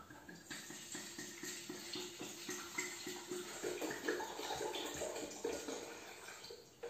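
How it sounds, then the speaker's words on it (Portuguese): One litre of water poured into a pot to be boiled for a home remedy, a steady broadband splashing stream that runs continuously at moderate, close level with no talk. "coloque então 1 litro de água para ferver"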